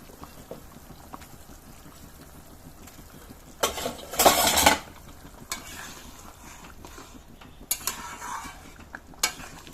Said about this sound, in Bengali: এবারে ঢাকনা খুলে এর মধ্যে আমি ভেজে রাখা মাছগুলো দিয়ে দেবো